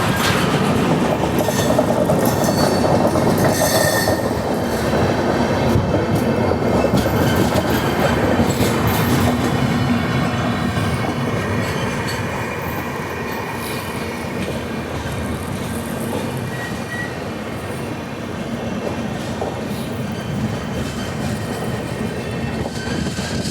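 Inside the Mumbai–Hyderabad superfast express, the train runs steadily on the rails with continuous rumble and rhythmic clickety-clack of wheels, the noise easing slightly partway through.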